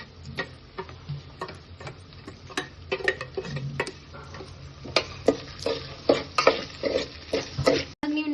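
Chopped vegetables for a homemade Maggi noodle dish fry in a pan with chilli powder and salt, a steady low sizzle broken by frequent sharp spatula scrapes and taps, close and fairly quiet, with no talking.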